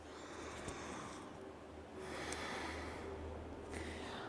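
Slow breaths drawn in and out through the nose during a vinyasa yoga flow, three long airy rushes of breath separated by brief pauses, close and soft with no talking.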